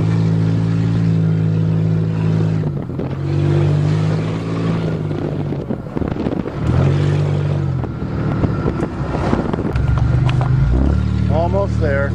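A homemade farm van on its first test drive, engine droning and shifting pitch as it accelerates and eases off, loud and close, with a voice talking over the motor throughout.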